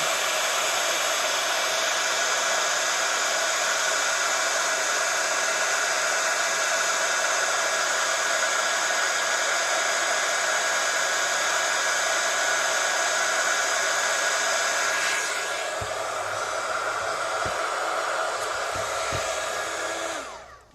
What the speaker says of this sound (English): I'm just going to bring in my heat gun. Now this is going to be a little bit noisy